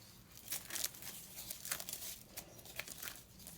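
Packaging being pulled and crinkled off a small ceramic dish printed with a bear, bought from China through Taobao, giving close, quiet rustling and tearing in irregular bursts.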